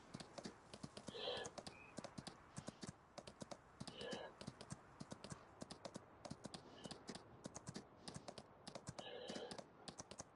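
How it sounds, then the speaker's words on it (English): Hooves of a Pinto horse clip-clopping under a rider on a mountain trail, a steady close rhythm of sharp hoof strikes with brief bursts of other sounds, including a low voice, between the steps. "It's been a good horse, old Pablo here."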